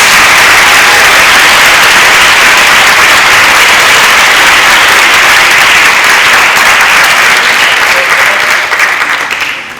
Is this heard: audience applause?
yes